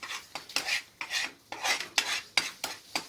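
Flour and butter roux being stirred in a pan for a French sauce, giving close, rhythmic scraping strokes, about seven in a steady back-and-forth pattern, with no talking.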